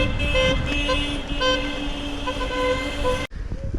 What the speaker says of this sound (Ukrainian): Весілля там їде, бачиш, сигналять.